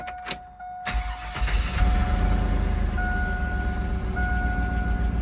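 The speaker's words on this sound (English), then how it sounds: "and I'll turn on the truck" A 2001 Chevrolet Tahoe's engine cranks with a short whir, catches and settles into a steady, close idle with a low rumble, faint electronic beeps or tones running over the running engine.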